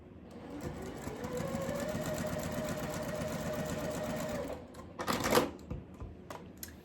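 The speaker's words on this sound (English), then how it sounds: "sew 1/4 inch seam all the way down" A sewing machine runs a quarter-inch quilt seam in one steady rapid stitching run of about four seconds, then stops, followed by a few clicks and rustles of fabric handling.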